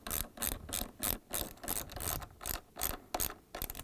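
Ratchet wrench tightening a 10mm bolt on a Samsung refrigerator freezer lower door hinge, quick close clicking strokes in a steady back-and-forth rhythm, alone.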